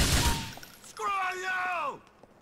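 A short, loud burst of gunfire in the video game GTA 4 opens the moment and quickly dies away, followed by a raised voice.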